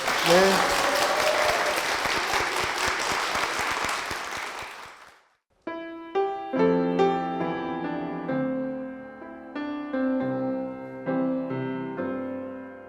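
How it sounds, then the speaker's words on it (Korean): A church congregation claps in a dense, loud burst of applause that fades out after a few seconds, then a piano-led hymn with singing begins. "축복의 박수 부탁드리겠습니다"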